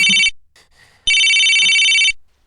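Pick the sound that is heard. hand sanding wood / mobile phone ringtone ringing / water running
mobile phone ringtone ringing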